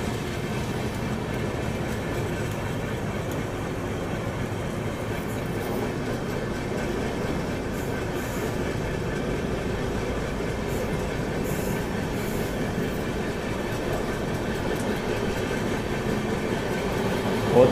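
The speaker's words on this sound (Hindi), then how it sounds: "चेन्नई राजधानी एक्सप्रेस राजधानी को राजधानी का क्रॉस।" Rajdhani Express trains pass each other, with a steady close rumble of rolling wheels and rattling carriages building slightly over time.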